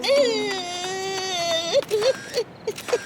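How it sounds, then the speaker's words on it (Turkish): A cartoon crying sound effect: a long, high wailing sob followed by a run of short, hiccuping whimpers, loud and up front. "bu ağlama sesi de ne?"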